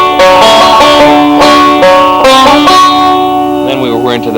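A short banjo phrase picked four times in a row, with bright twangy plucked notes in quick succession, loud and close, ending on a ringing, wavering note.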